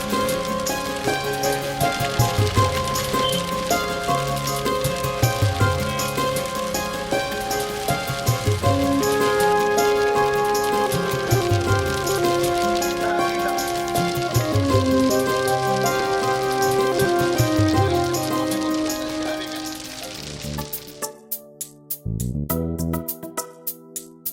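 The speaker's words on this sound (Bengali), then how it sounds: "হঠাৎই নামল বৃষ্টি ফোঁটা ফোঁটা নয় রীতিমতো ঝাপসা করা মুসলধার" A heavy downpour of rain pours steadily and densely, largely under a continuous musical backing, then thins toward the end.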